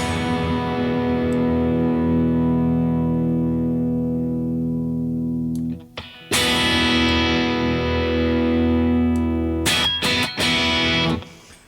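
Electric guitar played through an overdrive pedal set to a 2.3 tone setting, sustained distorted chords ringing out, then restruck after a short break, with a few quick strums near the end.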